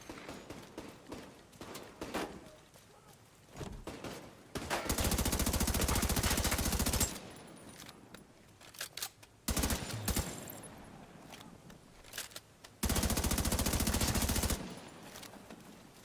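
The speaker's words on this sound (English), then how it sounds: "The guns also sound really good in this game." Automatic gunfire in The Division 2 rips out in two long, loud sustained bursts, with scattered single shots and quieter combat noise between them.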